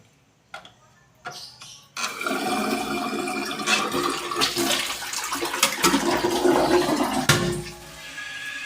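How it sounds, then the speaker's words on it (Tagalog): Steady rushing of water pouring into a toilet tank, continuous and close, after a few brief clicks and knocks at the start. "Diretso yung tubig, susayang yung tubig."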